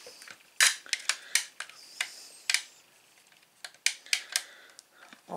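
A small screw is tightened into a part of an R2-D2 model kit, giving a close series of sharp, dry clicks and ticks in irregular bursts, with no talk over them.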